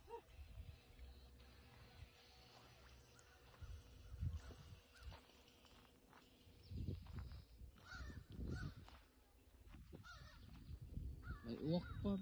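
Crows caw repeatedly outdoors during a road trip in Gaspé, Quebec, harsh calls rising above a low rumble and background chatter of people talking.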